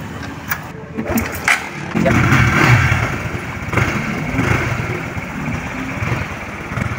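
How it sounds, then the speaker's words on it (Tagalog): A few mechanical clunks of a Honda XRM125 Fi motorcycle kick-starter, then the small engine catches and settles into a steady, close idle. "kahit isang padyak lang ay aandar na po ang motor na to"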